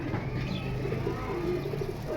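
Pigeons kept in a cage for sale cooing softly, low rolling coos repeating over a steady hum, fairly close, with faint higher chirps mixed in.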